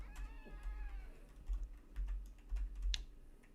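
Kruger lion cubs in the Planet Zoo video game purr and mew softly, with frequent computer keyboard clicks tapping over the top throughout.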